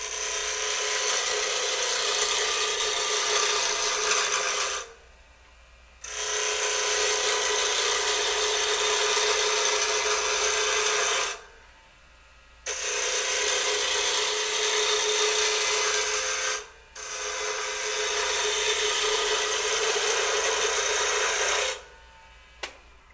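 A wood lathe spins while Easy Wood Tools cut into the blank, turning down its corners; loud, steady, close whirring and cutting comes in long passes broken by short pauses.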